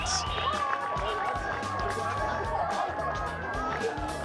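Spectators at an under-16 boys' junior football match, South Launceston versus Prospect Hawks, lift into a rising cheer and hubbub with shouting and scattered clapping, while a commentator talks over it.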